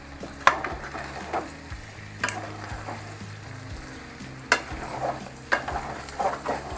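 Chicken fry sizzles in a pan while a spoon stirs and scrapes it, with a constant close frying hiss broken by several sharp scraping clatters.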